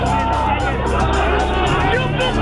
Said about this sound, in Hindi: शिवपाल को देख भीड़ का जोश दोगुना हो गया। जमकर नारेबाजी।